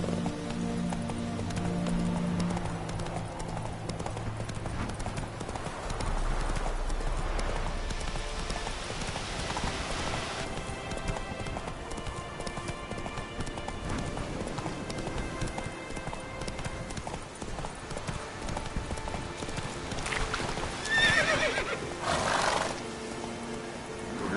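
Roach, the horse in Witcher 3, gallops with continuous clip-clopping hooves throughout, and a sharp whinny breaks out near the end over faint game ambience.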